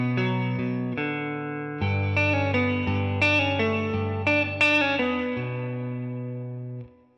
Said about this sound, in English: I've got a little bit of a clean tone with a compressor on and lots of reverb.